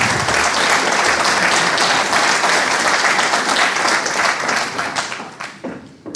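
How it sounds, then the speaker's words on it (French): A conference audience applauds to welcome a speaker on stage, dense sustained clapping that holds steady and then fades out over the last second. "j'accueille sous vos applaudissements Aurélien Barbé"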